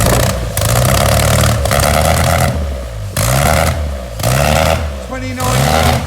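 An MG Midget engine, running after 29 years with its air filters off, revs loudly and close several times in rising, falling bursts over a steady idle, with people talking nearby.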